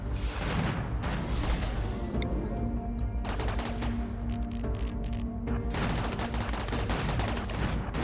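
Gunfire in a RimWorld battle, dense overlapping shots and impacts rattling on for several seconds with brief lulls, over a constant busy background.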